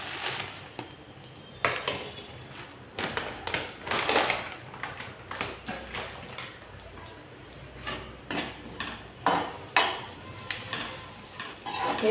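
A cup of oats sizzles in a pan while a spoon scrapes and stirs them in irregular bursts, close and fairly quiet, with metallic clinks against the pan between strokes.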